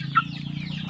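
Free-range village chickens clucking on a farm, with one short cluck near the start over a steady low droning background, no talking.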